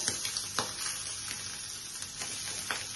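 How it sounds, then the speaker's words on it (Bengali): Jackfruit seed paste fries in hot mustard oil with a steady close sizzle and a few crackling pops, and no one talks. "এভাবে আমি সব তেলে ঢেলে দিলাম"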